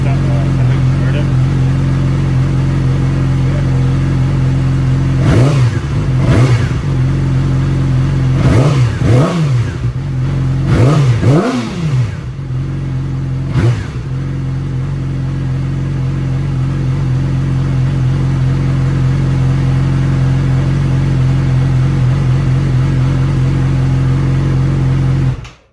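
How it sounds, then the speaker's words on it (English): A 2008 Yamaha R6 with a Radiant Cycles slip-on exhaust idles steadily, then gets blipped through several quick rising-and-falling revs before settling back to a loud, even idle. "The Radiant Cycles slip-on exhaust."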